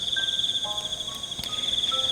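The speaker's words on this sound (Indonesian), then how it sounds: "keadaan yang tadinya banyak suara jangkrik, tongkerek, dan serangga-serangga lain yang aktif pada malam hari" Night insects, crickets and cicadas, chirp in a steady high-pitched drone, with a continuous pulsing trill and a few other faint insect calls scattered over it, no voices present.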